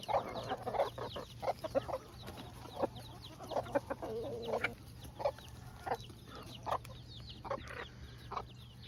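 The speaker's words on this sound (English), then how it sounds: "Mommy chicken can get back to her babies now." A mother hen clucks repeatedly in short, irregular bursts close by, with soft chick-like chirps and a steady low hum in the background.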